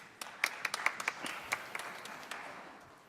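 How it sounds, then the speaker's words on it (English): Audience applause welcoming a speaker at a landscape restoration talk, a brief scattered patter of claps that starts sharp and thins out, moderately quiet in a large room. "Let's give him a round of applause."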